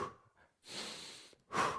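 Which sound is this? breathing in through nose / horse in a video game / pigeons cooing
breathing in through nose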